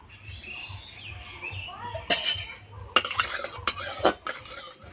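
A metal wok is set on a stove and mustard oil is added for cooking bitter gourd, giving a few sharp clanks and scraping clatters that grow busier toward the end, with a low hum in the background and no talking.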